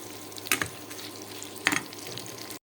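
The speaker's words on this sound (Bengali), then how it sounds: "এখন এগুলোকে বাদামি কালার হওয়া পর্যন্ত আমি আস্তে আস্তে লাড়তে থাকবো।" Onions and chillies sizzle and fry in a pan, with two distinct louder scraping stirs of a spatula against the pan over a steady crackling sizzle, close and clear.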